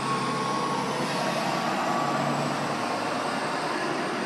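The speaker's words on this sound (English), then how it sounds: "There was a truck passing by." A truck passing by outdoors, heard as a steady, broad roadway rumble and hiss that holds at a moderate level for several seconds with no voices.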